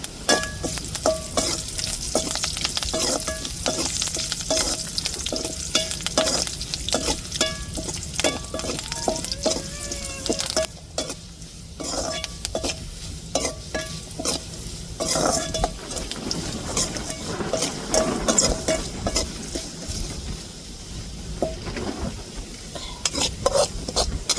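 Curry leaves frying in hot oil in a pan while being stirred: a steady sizzle under rapid, rhythmic scraping and clinking strokes of a utensil, loud and close, continuing for a long stretch.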